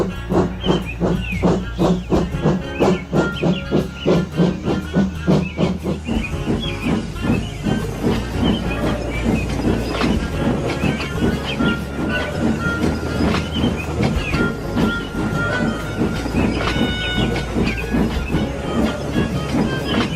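A steam engine pulls a train of rail cars away, with steady rhythmic chuffing and hissing steam giving way to a dense, continuous clatter of wheels on track, loud and close throughout.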